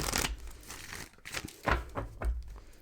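Tarot cards are shuffled by hand in a rapid papery riffle of crinkly bursts and soft flutters, close up, uneven in rhythm, with no one speaking.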